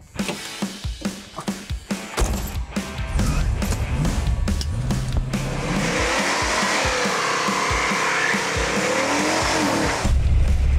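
A loud Ford Granada sleeper drag car engine revs in sharp bursts, then roars continuously at full throttle in drive, rising in pitch as it accelerates hard, with tire noise underneath.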